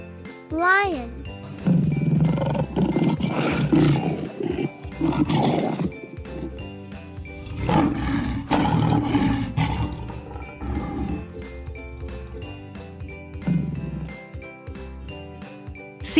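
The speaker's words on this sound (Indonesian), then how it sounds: "Lion." A lion roars in several deep, rough bursts, loud and close, set over light tinkling background music.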